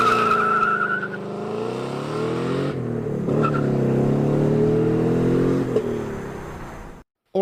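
A car engine revs hard with rising and falling harmonic whine, shifting pitch several times over a few seconds, loud and close, with a possible tire squeal before it cuts off abruptly.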